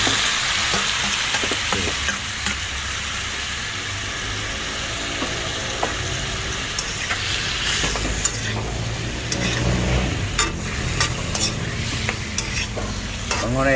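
Beef sizzles and fries in hot oil in a pan while being stirred, a steady crackling hiss with scraping and clinks throughout, close by, with a brief word spoken.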